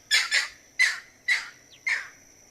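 A shy river bird gives a run of loud, harsh squawking calls as it runs away, five or six separate bursts spaced roughly half a second apart, close and clear against a quiet outdoor background.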